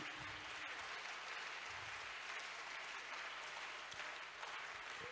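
A church congregation applauding to acclaim Jesus, a steady continuous wash of clapping from a large crowd, even in level and somewhat distant, with no speech over it.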